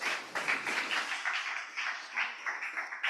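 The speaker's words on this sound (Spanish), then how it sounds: "Dale un fuerte aplauso al Señor." Church congregation clapping in a steady rhythmic beat of sharp claps, fairly loud and continuous throughout, with no talking.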